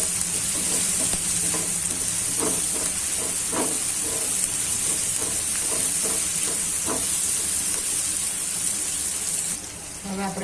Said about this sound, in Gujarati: હવે આપણે પેપ્સિકમ નાખી દઈશું. આ રીતના બધું મિક્સ કરી દઈશું.